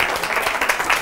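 Audience applause on a Spanish television variety show, a brief dense burst of clapping filling the whole moment at steady loudness.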